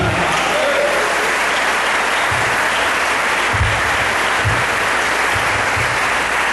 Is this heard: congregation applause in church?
yes